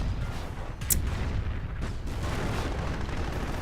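Artillery fire in a tank combat video game: a sharp distant crack followed by a low rumbling boom and continuous heavy rumble, with no voices.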